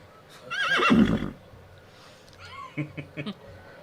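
A loud horse whinny rises and falls, then trails off into a few softer, scattered sounds.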